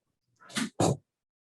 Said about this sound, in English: my foster dog is making lots of noise